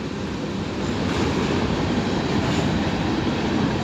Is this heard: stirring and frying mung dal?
no